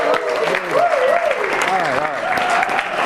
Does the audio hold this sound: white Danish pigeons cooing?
no